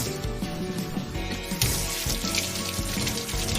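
Kitchen tap running steadily into a sink during handwashing, a close, continuous splashing hiss with slight shifts in flow as hands move under the stream, no talking.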